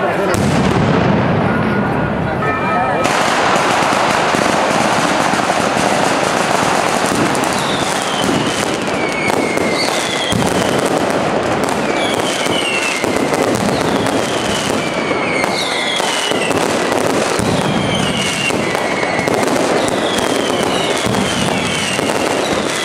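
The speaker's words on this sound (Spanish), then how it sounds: "dispara la pirotecnia María Angustias, comienza la máscleta" A loud, relentless mascletà barrage of firecrackers at the Fallas in Valencia, staged by a pyrotechnics company in 2016, with dense rapid bangs and crackling bursts roaring continuously, plus whistling rockets cutting through.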